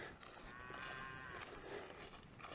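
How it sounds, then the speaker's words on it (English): Droughtmaster cattle on an off-grid property moo in long, low calls that rise and waver, heard at moderate distance over a faint outdoor background, with no voices. "it's a beautiful sight having these cattle here. They're drought masters"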